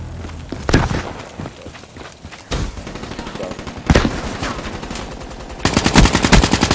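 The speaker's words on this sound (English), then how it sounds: "I got that SMG shot on point" An SMG in Black Ops 3 fires in several loud close bursts, including a separate single shot, clustered volleys spread across the stretch, and a final rapid stream of shots, with footsteps and game ambience between.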